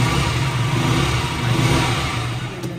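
A KTM motorcycle with an underbelly exhaust, six-speed gearbox and 14 bhp engine revs close by, a steady, loud, crisp engine drone held for a few seconds with no one talking.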